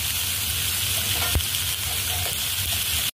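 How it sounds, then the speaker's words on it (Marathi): Chopped onion fries in a pan with cumin, mustard seeds and asafoetida, a steady close sizzle and crackle throughout with a brief clink of a spoon partway through. "आता हे चांगला कांदा परतून घेऊ."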